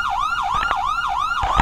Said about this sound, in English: Is that the siren?